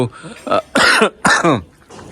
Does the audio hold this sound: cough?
yes